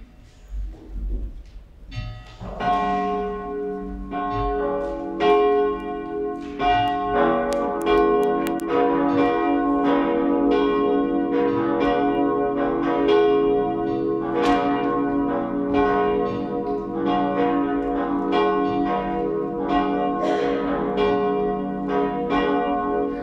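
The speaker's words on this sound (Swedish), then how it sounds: "Låt oss nu lyssna till klockringningen." Cathedral church bells ring loud and close after a Shrove Sunday high mass, overlapping strokes building into a dense, sustained peal that carries on without pause.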